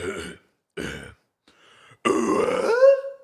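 A man clears his throat with rough, gravelly grunts, close to the mic, in a few short bursts ending in a longer, strained rasp.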